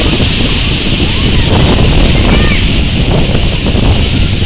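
A strong gusting wind in an unseasonal village rainstorm roars loud and steady against the microphone, with a broad rushing wash of wind and rain that never lets up.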